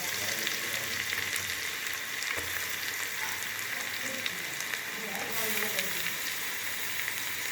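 Grated carrot tumbling into a pan of frying cashew nuts for gajar ka halwa, giving a steady, close sizzle with soft stirring and scraping throughout.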